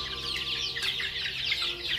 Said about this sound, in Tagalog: Ang dami pa po sa labas, mga manok.